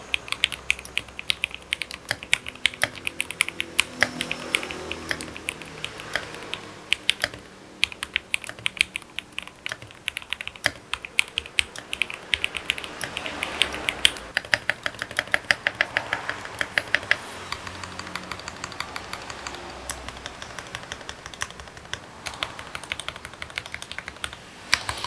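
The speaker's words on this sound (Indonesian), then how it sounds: "Langsung aja kita dengarkan typing testnya." Typing test on a budget-modded mechanical keyboard, with a steady stream of crisp, close keystrokes in quick, uneven rhythm and no talking.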